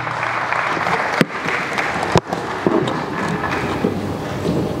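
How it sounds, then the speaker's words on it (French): Crowd applause and scattered cheers at an inauguration ceremony for a water treatment plant, steady clapping with a few sharp louder bursts, moderately close. "Sous vos acclamations."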